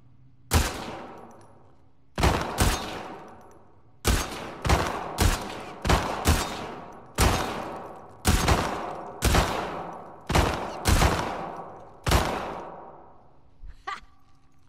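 A full magazine of gunfire in a shooting contest from The Last of Us Part II: about fifteen sharp, loud single shots, each ringing out with a decaying echo, fired in irregular clusters with short pauses between, ending with faint clicks.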